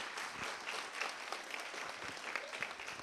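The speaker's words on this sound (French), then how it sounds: "Applaudissez là très fort, s'il vous plaît" Audience applause in a university hall during a talk on international exchanges: dense steady clapping from a sizable crowd, moderately distant, holding for about three seconds.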